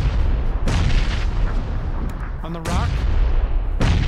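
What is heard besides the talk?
grenade explosions in PUBG video game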